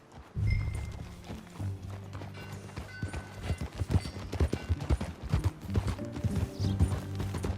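A horse gallops in Red Dead Redemption 2, its hooves thudding in a quick, steady rhythm close by, with a musical score playing underneath.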